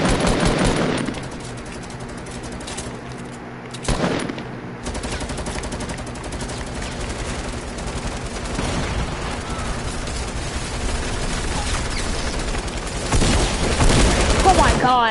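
Sustained gunfire rattles from several sides in a Fortnite match, with dense overlapping rapid shots and sharp cracks running almost continuously at close to mid range, under intermittent talk.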